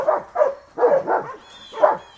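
Dogs in a kennel bark in uneven bursts, about five medium-loud, slightly echoey barks with short gaps between them and no talking.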